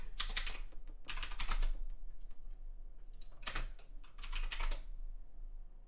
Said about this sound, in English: Let me just type this in a very loud way.